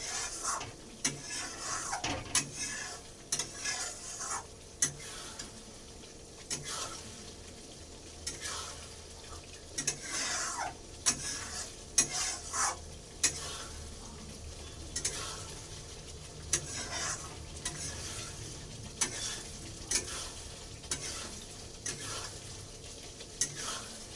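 Onions and spices with salt fry in a pan, a continuous close sizzle punctuated by regular scraping strokes of a spoon stirring against the metal.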